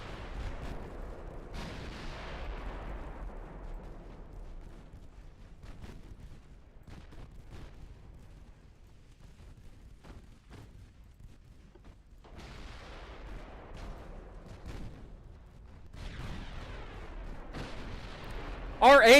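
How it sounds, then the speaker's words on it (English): Warship guns, 8-inch and 6-inch, fire in a German naval battle in the video game Ultimate Admiral Dreadnoughts, sounding as irregular booming shots with rumbling tails scattered over a low background, several clustered together and one sharp loud blast at the end. "we're literally just firing our guns into the mess and hoping that something hit"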